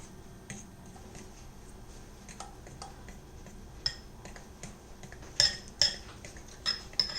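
Utensil scraping and clinking against a bowl while mixing chocolate lava cake batter, light scattered taps that grow into several sharper clinks near the end, with no talking.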